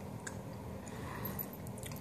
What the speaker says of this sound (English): I'm sorry if I'm chewing gum.